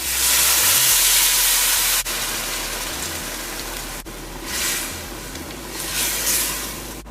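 A steady loud hiss and rush of boiling water poured into a curry cooking pot, close by, with sizzling surges toward the end.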